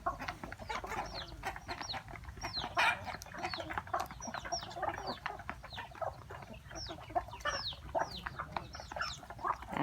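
Free-range native Thai chickens, about sixty birds, cluck and chirp around a bamboo forest, a busy overlapping chorus of short calls near and far with no talk.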